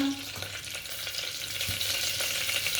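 Curry leaves and mint frying in hot oil give off a steady, soft sizzle with faint crackles and occasional stirring clicks, heard close up, with no one talking.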